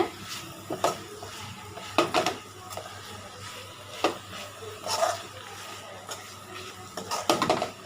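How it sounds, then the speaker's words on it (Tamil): Onion and tomato sautéing in a pan for chutney, with irregular clinks and scrapes of a spatula against metal over a faint background sizzle. "நல்லா வதங்கட்டும் நல்லா வதங்கி வந்தது"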